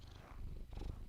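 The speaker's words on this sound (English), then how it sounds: "I suppose you guys can hear her purring when she's up there licking the microphone" A cat purrs right against a microphone, a brief low rumbling flutter, close and soft with some rustling.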